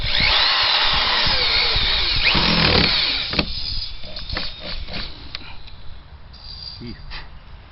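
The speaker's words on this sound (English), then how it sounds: "I've got to break for a little bit after I get the next couple of screws in because my drill bit decided to break" A power drill whines loudly and continuously for about three seconds while driving a screw into the wood of a wooden swing set being rebuilt, then stops, followed by quieter clicks and knocks.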